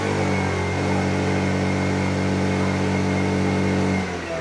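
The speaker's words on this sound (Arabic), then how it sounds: "غنرونفليو دابا، غنكسيريو ليه الافو." A weak motorcycle engine is revved steadily, a strained, buzzing mid-pitched drone that holds at a constant level for about four seconds before dropping off near the end, close to the microphone and with no talking.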